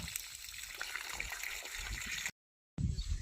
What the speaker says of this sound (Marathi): आता आधी हात धुवून घेते स्वच्छ